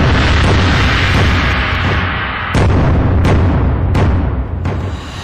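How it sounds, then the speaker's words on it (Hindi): Artillery shelling from the Pakistani side at the India-Pakistan border in Poonch, with a series of heavy booms, some sharp and sudden, punching through a continuous loud roar with no talk. "ये जो पाकिस्तान की तरफ से शेलिंग हो रही है"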